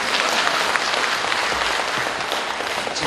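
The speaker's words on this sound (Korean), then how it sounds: "동감하시면 박수 해주시기 바랍니다." Audience applause at a Korean talk or lecture, dense and steady clapping from a crowd filling the whole stretch without a break.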